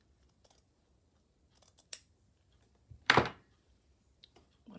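Scissors snip close by while trimming near buttons on a stitched purple pouch, a few small clicks and then one louder, longer cut, with quiet gaps between.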